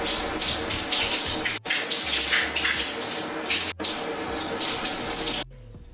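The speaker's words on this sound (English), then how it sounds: "Alright, so I'm gonna rinse this out." Water running from a tap to rinse beer out of hair, a steady splashing rush with a few brief interruptions before it shuts off near the end.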